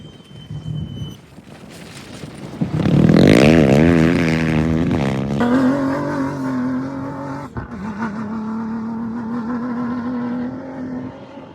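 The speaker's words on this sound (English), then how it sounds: "the cars are coming that way. They're going to pass closer to where we're standing" WRC2 rally cars on a Moroccan stage approach and roar past at close range, one engine screaming loudly through rapid gear changes before settling into a sustained, slowly fading drone.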